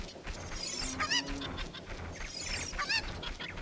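Chickens squawk and cluck in Zelda: Ocarina of Time during a chicken-catching minigame, with repeated sharp warbling calls near 1.1 and 2.9 seconds over a busy, noisy game background.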